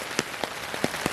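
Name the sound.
heavy rain falling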